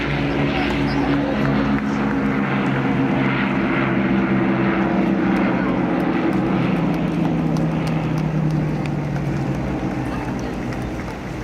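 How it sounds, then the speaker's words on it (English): An Avro Lancaster bomber of the Battle of Britain Memorial Flight passes overhead at an airshow in Blackpool, its piston engines making a loud, steady droning roar that holds throughout. "Ladies and gentlemen, Battle Memorial Flight Lancaster."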